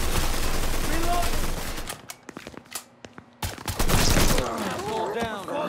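Bursts of heavy gunfire and rapid shots come from Mafia 3 gameplay, dense at first, then a brief lull of scattered single shots before another loud volley, with voices shouting over the fight.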